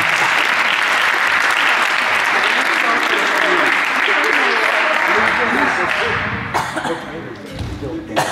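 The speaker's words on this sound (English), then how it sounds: "Give him a big round of applause." A high school post-prom audience claps loudly after a joke, a thick sustained wash of applause with scattered coughs and thumps that thins toward the end as voices and movement come through.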